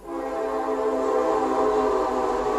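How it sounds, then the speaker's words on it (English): A train passing on a nearby track near a home, heard as a loud sustained horn with layered harmonic tones that swells in and holds steadily over a low rumble. "We live by a train track. There's the train going by."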